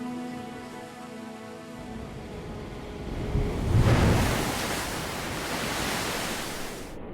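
Ocean waves in the South Seas roll in with a steady broadband wash that swells into a louder surge midway, then settles into a continuous surf hiss, with no voices.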